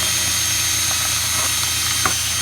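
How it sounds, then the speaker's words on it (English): A drill with a dull bit grinds against a plastic fuel filler neck cover on a Ford Escape, a loud continuous motor drone with faint scraping ticks layered on top. "this drill bit is so bad that it won't even drill through plastic"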